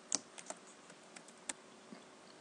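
Computer keyboard typing in an HTML editor: a few faint, irregular key clicks over quiet room tone, with no talk.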